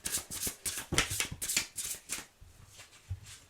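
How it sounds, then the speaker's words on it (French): Tarot cards shuffled by hand in quick, uneven riffling bursts, close and fairly soft, with a stiff, clumsy rhythm that thins out toward the end. "Elles sont pas faciles à brasser ces cartes."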